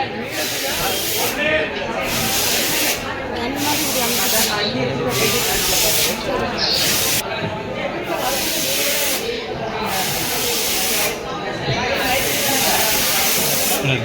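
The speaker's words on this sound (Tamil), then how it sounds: "பாருங்க ஃப்ரெண்ட்ஸ் எப்படி பெயிண்ட் அடிக்கிறாங்கன்னு எல்லாமே ஸ்ப்ரே தான்" Spray paint goes onto Ganesha idols in repeated loud, hissing bursts, each lasting about a second with short gaps between, while voices talk underneath.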